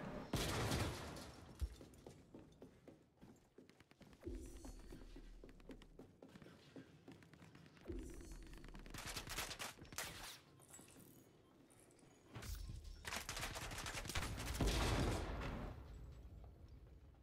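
Enemy gunfire in the video game Star Citizen, with bursts of shots and a few heavier blasts between quieter stretches that carry footsteps and movement, fairly loud and close.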